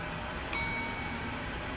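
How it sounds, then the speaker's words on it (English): A single bright ding of a Westinghouse elevator chime in a video game rings out once and fades over a steady background hum. "Another Westinghouse chime."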